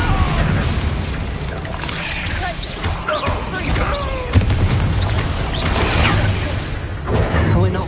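Expelliarmus spell casts and combat hits in the Hogwarts Legacy video game ring out as repeated booming bursts and crashes amid a dense, loud battle soundscape with music, one sharper impact standing out midway.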